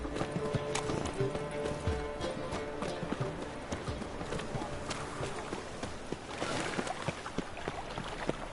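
The horse Roach trots through a video game scene, a steady run of hoof clip-clops over a busy background of ambient game sound, with a brief whinny and faint voices talking.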